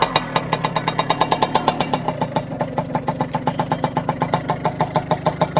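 A 50cc moped engine idles steadily after starting, its close, regular fast putter running evenly throughout with no talk.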